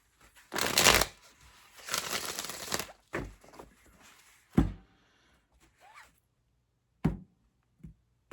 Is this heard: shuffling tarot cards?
yes